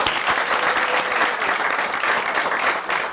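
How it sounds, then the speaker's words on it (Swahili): Studio audience applauding a guest at the close of a campus talk show, a steady dense wash of clapping that holds at full strength for the whole stretch without voices. "Wapi makofi ya guest wetu wa leo."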